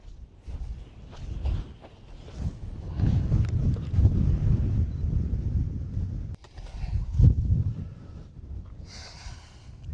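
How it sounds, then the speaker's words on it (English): Gusty wind buffets the microphone outdoors on a ranch, low rumbling bursts that rise and fall unevenly, with faint rustles and footsteps-like thuds between gusts. "It's windy today."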